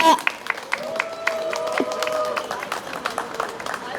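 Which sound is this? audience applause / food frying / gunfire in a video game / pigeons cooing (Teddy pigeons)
audience applause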